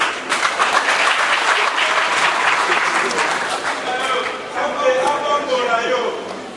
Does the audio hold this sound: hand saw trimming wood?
no